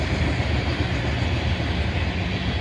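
Freight train rolling past at Oak Harbor, Ohio, with an AC 446M mid-train DPU locomotive in the consist; a steady, dense rumble of wheels and cars stays close and loud throughout, with no pauses.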